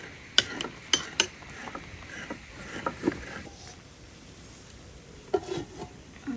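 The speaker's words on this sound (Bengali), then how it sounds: "নারকেল কুড়াচ্ছি" Coconut grated by hand in a kitchen: a run of rough, rhythmic scraping strokes nearby. A quieter pause follows, then a few more scrapes, and no one speaks.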